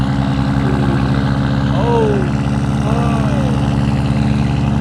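A hypercar's engine runs loud and close at a Cars and Coffee meet outside an IKEA, a dense, steady drone, while brief voices sound faintly over it.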